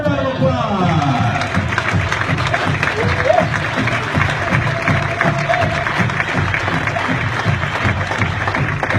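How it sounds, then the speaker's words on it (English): Sustained, loud applause from an audience at an honoring ceremony for Marcella LeBeau, dense continuous clapping filling the whole stretch with some crowd murmur. "Give a round of applause."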